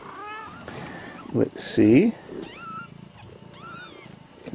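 A mother cat and her newborn kittens meow, the young ones giving thin, high mews and the mother a louder, close call. A person talks softly over them.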